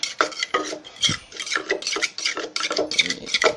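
Small tomatoes are pounded in a mortar for a sour mango salad, with close, rhythmic wet thuds and scraping strokes repeating roughly twice a second.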